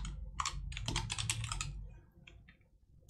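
Someone types on a computer keyboard in a quick flurry of close key clicks that slows and thins toward the end.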